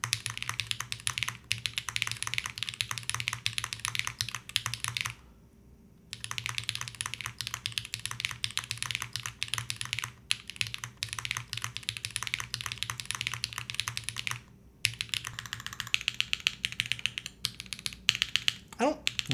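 Rapid, steady typing on a Kyubi mechanical keyboard fitted with Y1 switches, close and clear, with dense clicky keystrokes broken by a few short pauses and a low steady hum underneath.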